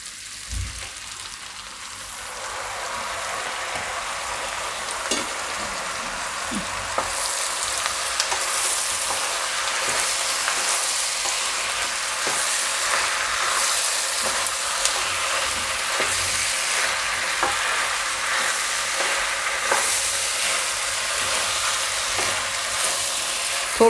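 Tomatoes are added to onions frying in oil in a pan, an even, continuous sizzle that grows slightly louder after the first few seconds, with faint occasional stirring clicks.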